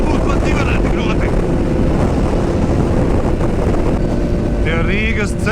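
Heavy wind buffeting a rider on a motorcycle heading toward Riga during a motorcycle season opening ride, a loud constant low roar that never lets up, with a voice faintly speaking over it at moments.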